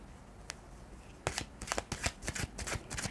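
Two decks of tarot cards being shuffled close up, a quiet lone flick followed by a quick run of crisp riffling bursts. No voices.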